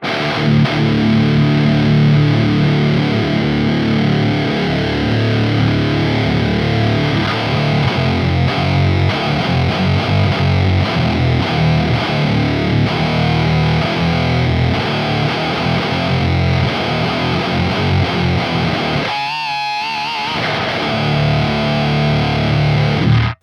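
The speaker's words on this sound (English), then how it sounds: "that is a really fucking gross distortion pedal" An electric guitar runs through the distortion pedal of the Neural DSP Archetype Gojira plugin, giving a loud, thick, sustained heavy tone with chugging riffs that stops briefly near the end before the riffing resumes.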